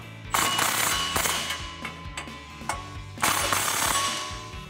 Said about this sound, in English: And then we'll take our 13 millimeter socket to tighten it down.